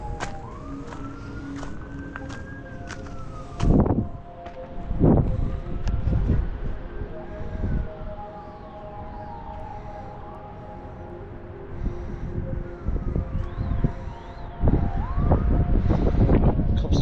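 A police siren wails and sweeps up and down, rising and falling over a windy coastal mountain lookout on Oahu, Hawaii, heard at moderate distance beneath gusts of wind and scattered handling bumps.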